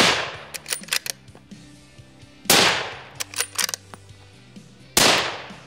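Three loud, sharp rifle shots from a bolt- or lever-action rifle crack out at roughly two-and-a-half-second intervals during a timed speed and accuracy test. Quieter clicks and clatter of the action being worked fall between the shots.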